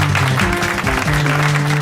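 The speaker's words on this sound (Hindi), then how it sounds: "इनका जोरदार तालियों से हम स्वागत करते हैं।" An audience applauding to welcome eight contestants on a Hindi quiz show, a dense, loud wash of clapping that runs steadily for a couple of seconds with music or tones underneath.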